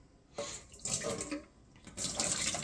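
Tap water runs over soaked split peas being rinsed, splashing in uneven bursts that swell and ease as the peas are stirred under the stream.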